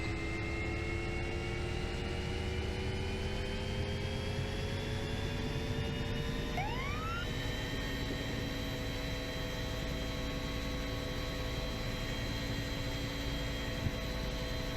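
Turbine whine of a Huey helicopter engine in a flight simulator running up to 6,600 RPM, tones climbing and settling into a steady high drone over a constant rushing roar.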